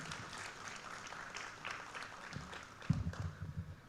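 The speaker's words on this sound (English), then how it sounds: "So please give a huge round of applause for them too." Faint, distant clapping from an audience at a national chartered accountants' conference, a light scattered patter that grows slightly toward the end.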